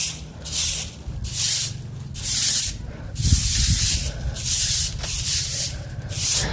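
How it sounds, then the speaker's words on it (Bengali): A broom sweeps the ground outdoors in steady, rhythmic strokes, each a loud scratchy swish roughly every second, close up and with no talking. "তো চলো ঝাঁট দেওয়া কমপ্লিট"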